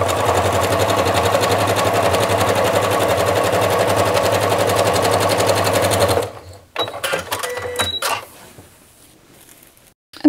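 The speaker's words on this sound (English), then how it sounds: "I also have my stitch length to about 3 because I am top stitching." Sewing machine running steadily while top stitching a scrappy quilt with a walking foot at a longer stitch length, a loud continuous mechanical whir for about six seconds before stopping, followed by light handling clicks.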